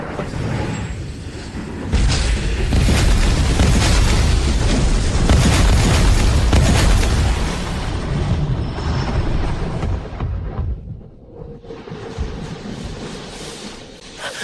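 Massed weapons open fire in a continuous, heavy roar of booming gunfire and explosions, loud and dense for about eight seconds before thinning into lower rumbling blasts, with no voices.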